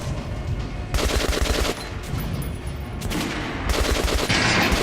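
Rapid bursts of automatic gunfire from the video game Metro: Last Light Redux pound at an armored enemy, coming in dense repeated volleys with brief pauses, loud and close.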